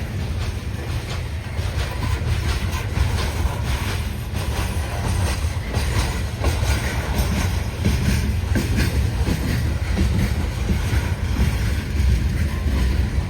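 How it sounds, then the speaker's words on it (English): A heavy bulk freight train hauled by two engines passes at New River Junction, a steady loud rumble with rhythmic wheel clatter on the rails and wind noise throughout, no voices. "Although he is a bulk train."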